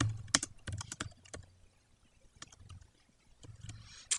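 Quiet, close computer keyboard typing comes in short irregular bursts of key taps, with pauses between them.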